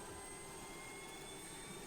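Steady, distant roar of a Thai Air Force F-16 fighter jet engine with a broad rushing hiss and a faint high whine, continuous with no speech.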